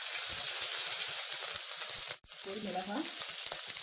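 Mustard seeds, curry leaves and a chili crackle and sizzle in hot oil while rasam tempering is prepared, a close, continuous frying hiss with a brief break and a voice talking briefly over it.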